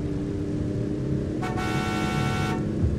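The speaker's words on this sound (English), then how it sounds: "I'm making him honk the horn for some reason." Car horn in the video game Final Fantasy XV, a single steady honk lasting about a second over a constant engine hum, with no talk.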